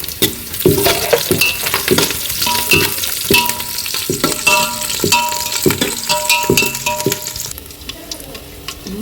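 Green chillies sizzle and spit loudly in hot oil in a pan while being stirred, with repeated scraping strokes and occasional clinks, cooked village style alongside country chicken curry.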